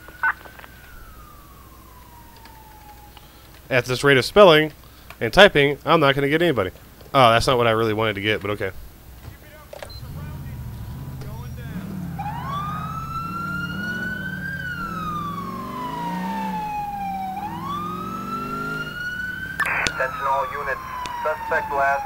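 A police car siren in Grand Theft Auto IV wails with long rising and falling sweeps through the second half, loud and close, after a stretch where someone talks over choppy game sounds.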